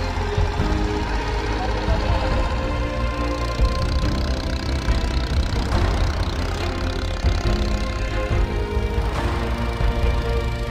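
A passenger boat engine chugs steadily up close, a rough rattling drone carrying on without pause, with a few faint voices in the background.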